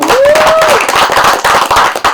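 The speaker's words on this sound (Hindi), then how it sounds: "सो नाचेगा इंडिया टीम के लिए तालियां हो जाएं यार" At the launch of the Nachega India show, the audience claps loudly for the team, a close, crackling burst of many hands with a brief whistle or cheer near the start.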